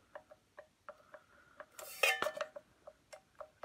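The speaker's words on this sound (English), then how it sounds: "this grey plastic, which you can hear is loose, is fitted on somehow" A loose grey plastic part on a Vax 2100 vacuum rattles in quick, light plastic clicks and taps, with a denser burst of clatter midway, close and fairly quiet with no voices.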